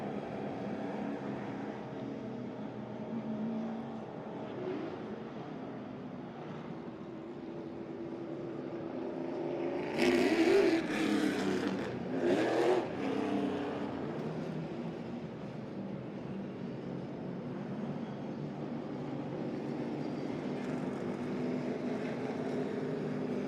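Late model race cars run on the Hickory, North Carolina track, a distant steady engine drone that swells as cars roar past nearer around the middle.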